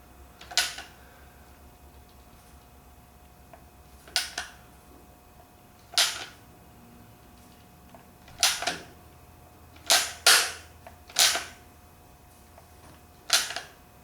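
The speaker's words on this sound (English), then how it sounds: "Somebody said they thought I had an air-operated seam sealer gun. This one's a hand pumper." A hand-pump seam sealer gun squeezed to lay sealer on a Chevy Nova body: about nine sharp, dry clicks spaced irregularly over a quiet background, some arriving as quick pairs, with no talking.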